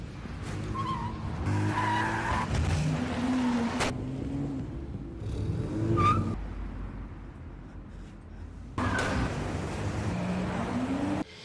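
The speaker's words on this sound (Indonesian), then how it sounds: "Terjadi kejar-kejaran di dalam parkiran tersebut." Cars chase through a parking garage with repeated tire squeals and skids, bursts of revving engines echoing in the enclosed space between quieter gaps, loud and close.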